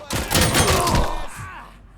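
A loud burst of rapid gunfire from the RoboCop Rogue City video game, several close shots in quick succession, briefly joined by a shouting voice before fading out.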